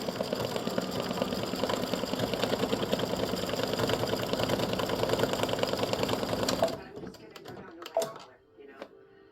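An embroidery machine sews a satin stitch with a steady, rapid mechanical chatter for about seven seconds, then stops, leaving a few scattered clicks and handling noises.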